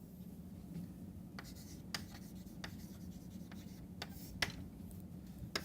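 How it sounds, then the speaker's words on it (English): Chalk or marker writes on a board during an engineering lecture, giving faint scratchy strokes and sharp taps in irregular bursts over a low steady room hum, with no talking. "Let me write down the scheme here."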